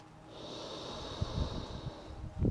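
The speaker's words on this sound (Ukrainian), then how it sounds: "Вдих." A single long nasal inhale during a yoga breathing exercise, a soft steady airy hiss close to the microphone with faint low thumps beneath.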